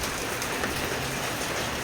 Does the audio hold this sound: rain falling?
yes